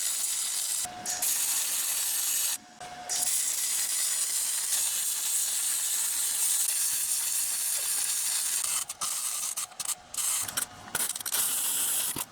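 MIG welder tacking a lower link frame mount on a mini Jeep, using argon-CO2 gas: a steady, crackling hiss that runs for long stretches and breaks off briefly several times, close and moderately loud, with no talking.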